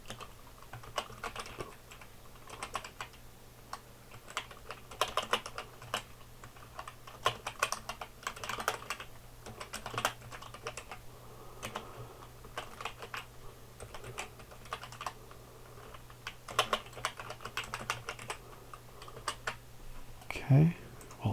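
Fingers tap away at a computer keyboard in bursts and steady runs of clicking, with quiet talk now and then and a low steady hum underneath.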